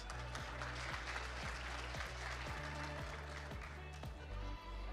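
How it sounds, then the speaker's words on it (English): Applause from an audience for a quiz winner at a national ICT summit in a Windhoek hotel, steady and dense over a low rhythmic music beat, with no talk. "Can we give him a big round of applause?"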